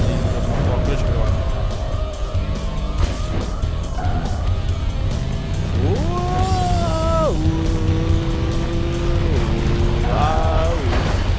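A motorcycle engine revs in a PlayStation 2 video game, loud and steady with sharp rising and falling pitch sweeps as it accelerates, while people talk over it.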